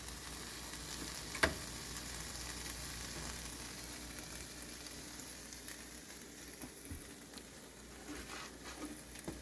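Fries frying in hot oil for homemade poutine, a steady, soft, continuous sizzle and crackle with faint pops, heard alone at moderate distance throughout.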